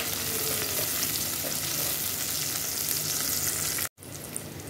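Garlic frying in a pan, a steady close dense sizzle running throughout with a brief dropout near the end, no talking.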